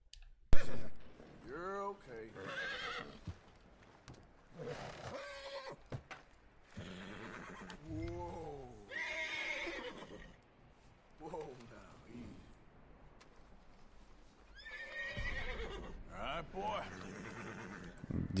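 A horse in Red Dead Redemption 2 whinnies and neighs in several separate bursts, shrill falling calls with snorting and breathy pants between them, up close.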